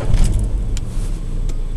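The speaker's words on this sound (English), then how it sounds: "So I'll just start the van up." Citroen Berlingo 1.6 LX LPG van engine turning over and running, a steady close low rumble filling the short stretch without speech.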